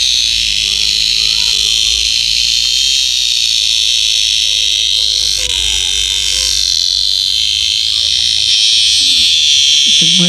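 A beetle held in the hand in mountain country buzzes loudly and continuously with a harsh, steady whine that fills the whole stretch. A voice murmurs faintly underneath.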